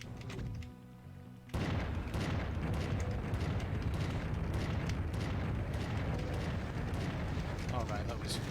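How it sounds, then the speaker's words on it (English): Rocket launcher fire and explosions in the Doom video game, a brief quiet start then a sudden, sustained roar of dense booming blasts and gunfire that stays loud to the end. "use my rocket launcher, I'm afraid."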